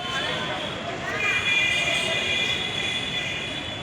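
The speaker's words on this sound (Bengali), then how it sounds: "দেখতেই পাচ্ছেন দীঘা রেলওয়ে স্টেশন।" Ambient sound at Digha railway station has a train rumbling and clanking nearby, with high metallic wheel squeals layered over a steady, fairly loud roar for a few seconds.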